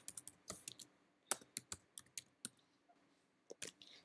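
Keystrokes on a computer keyboard typed in short, irregular bursts of sharp clicks, close and fairly quiet, with a pause partway through and no talking.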